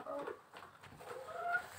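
A rooster weighing around three kilograms clucks softly in short, uneven bursts, faint and near, with no other sounds standing out.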